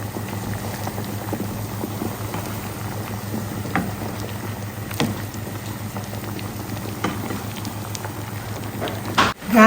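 Yam fries bubble and sizzle steadily in hot coconut oil, a dense, continuous crackle close by with a louder clatter near the end.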